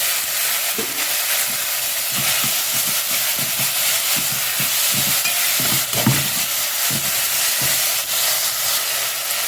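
Onions, garlic and ginger sizzle steadily in a hot pan for crab rasam with a constant hiss, while a spoon stirs and scrapes in irregular soft knocks; no talking.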